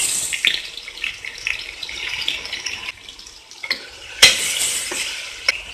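Onions, dried red chillies, green chillies and ginger are sautéed in a pressure cooker with a soft sizzle. A spoon stirs them in quiet scrapes punctuated by sharp metallic clinks, with no talking.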